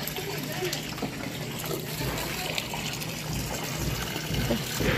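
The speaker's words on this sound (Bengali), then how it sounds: "জল ঢালো জল ঢালো জল ঢালো।" Water poured from a bucket splashes steadily for several seconds, a continuous rushing stream with voices talking faintly underneath.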